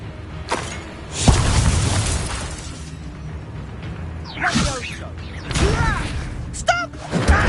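Incendio fire spells cast in Hogwarts Legacy, several sharp whooshing bursts and booms of flame at uneven intervals, fairly loud and close, with brief rising magical swishes between them.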